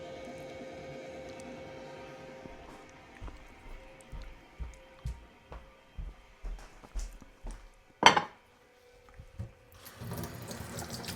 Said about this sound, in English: let's rinse off these things